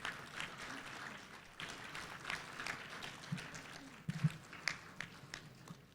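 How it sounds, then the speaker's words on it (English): Audience applause at a Hindu women's conference session, a fairly faint, steady patter of clapping across the room with a few sharper claps standing out near the end. "round of applause for her as well"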